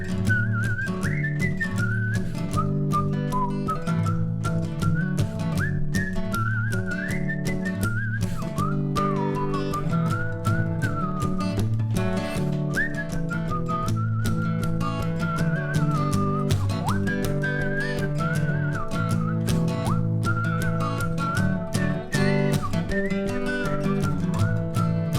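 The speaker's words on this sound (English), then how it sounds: "Eine letzte Runde pfeifen." Sustained melodic whistling at an online home concert, a bright wavering tune carried steadily over a band accompaniment of guitar and bass for the whole stretch, loud and continuous with no talking.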